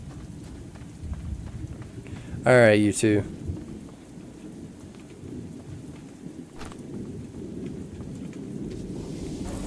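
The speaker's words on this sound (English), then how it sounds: "Thunderstorm is very, very nice to hear." A rainy thunderstorm in the video game Outward 2, steady rain hiss under low rolling thunder throughout, with a brief spoken line partway through.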